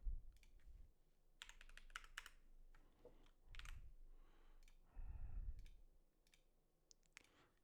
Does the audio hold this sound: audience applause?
no